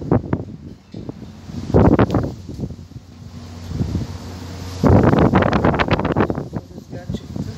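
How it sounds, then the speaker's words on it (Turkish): Wind gusts across a home balcony where trays of tomato paste sit drying, buffeting the microphone in rough bursts that rise and fall, loud and close. "Rüzgar çıktı."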